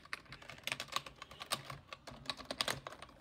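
A gaming keyboard's space bar pressed repeatedly, giving an uneven run of close, loud plastic thumps and clacks with no voices.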